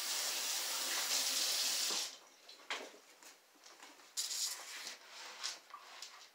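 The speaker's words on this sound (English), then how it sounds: "I'm just gonna give it a quick rinse." Kitchen tap water runs loudly over a cutting board for about two seconds, then quieter, uneven splashes and trickles follow as the rinse continues, with no voices.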